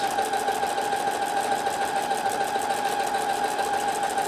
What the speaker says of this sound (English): sew in permanent reverse